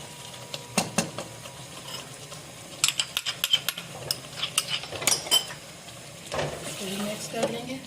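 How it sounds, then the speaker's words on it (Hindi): Chicken is mixed with yogurt and tomato paste in a pot. A spoon clatters and scrapes the sides in quick irregular bursts over a soft sizzle, close, with brief pauses and some talk. "बस अब ये सारी चीज़ों को मिक्स कर लेंगे। ये दही भी शामिल कर देंगे।"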